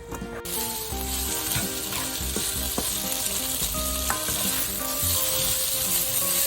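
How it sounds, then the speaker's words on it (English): Steady loud sizzling of bitter melon stir-frying in hot oil, with occasional scrapes and clinks of stirring throughout. "start stir frying the bitter melon"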